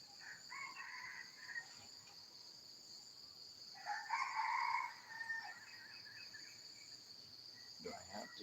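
Chickens in a garden at dawn, with a short crow-like call from a rooster midway over a steady high insect drone and quieter scattered clucks.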